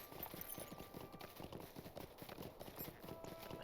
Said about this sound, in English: I'm on my horse and I'm away!